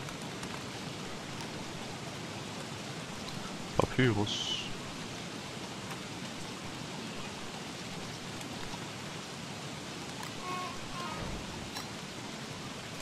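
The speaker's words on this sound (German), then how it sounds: "Und es regnet echt die ganze Zeit." Steady rain falling in the survival game Don't Starve Reign of Giants, a constant broadband hiss running throughout, with a voice speaking briefly over it.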